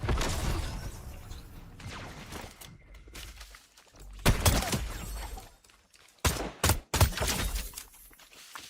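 Gunfire in a battle royale squad match, heard as a few sharp, loud bursts spaced across the stretch with quieter rumbling and shuffling between them, and no talking.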